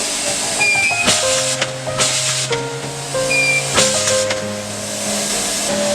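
A pyramid tea bag packing machine seals and cuts filter material, giving a hissing pneumatic rush mixed with sharp clacks and sustained mechanical tones, loud and close, with repeated bursts every second or so.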